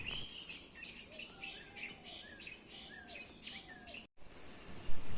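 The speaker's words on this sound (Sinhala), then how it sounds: "ලේන කුරුල්ලන්ගේ සද්දෙට එයාලවත් බලන්න එළියට ආවා." Birds chirp and call in a quiet garden, a series of short, faint repeated notes with a soft insect hum behind them.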